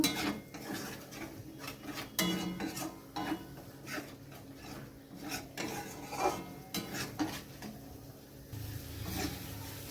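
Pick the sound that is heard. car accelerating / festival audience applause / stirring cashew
stirring cashew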